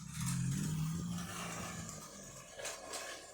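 A Type R sports car engine drives off on a neighborhood street, a faint low roar that rises briefly as it pulls away and then fades, heard from a short distance with no talk over it.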